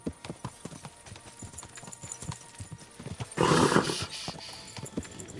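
Horse hooves clip-clopping in the video game Kingdom Come: Deliverance 2, a steady rhythmic trot of close hoofbeats with a brief burst of louder noise midway.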